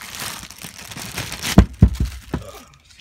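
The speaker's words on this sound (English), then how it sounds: "Quick unboxing of Milwaukee's new m12 quarter inch stubby ratchet, impact ratchet." Packaging for a Milwaukee M12 quarter-inch stubby brushless impact ratchet is unboxed close up, a crinkly rustle of paper and plastic followed by a few sharp crackling tears and pops before falling quiet.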